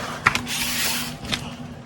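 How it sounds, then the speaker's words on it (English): Fuel spraying from a leaking filter line on a Maverick, a continuous airy hiss with a few sharp clicks and knocks over a low steady hum. "Got a massive fuel leak coming from this filter."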